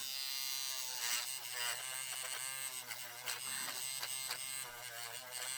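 An electric nail drill fitted with a small brush bit sands a fingernail during nail prep, giving a continuous high-pitched motor whine close by, steady throughout with slight shifts as it presses on the nail.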